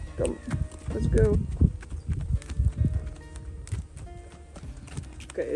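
Horses moving around a farm yard at weekend feeding time, with hooves clopping on hard ground in irregular steps, heard close by beneath frequent talking.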